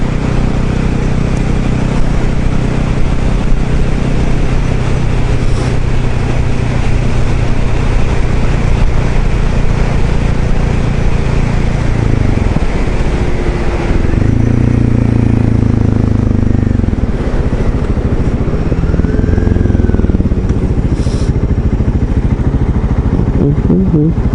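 A cruiser motorcycle engine drones loud and constant while riding, its pitch shifting slightly with throttle, with heavy wind rush and no clear talking.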